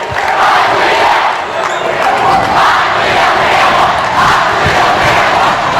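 Loud, dense crowd roar at a boys' high school basketball game, sustained cheering and shouting filling the gym throughout with no break.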